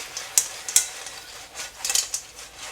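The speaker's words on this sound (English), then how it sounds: "Mix them up a little bit." Prawns, clams and spring onions being stirred in a pan, a few sharp clinks and scrapes of utensil against metal over a faint sizzle, no talking.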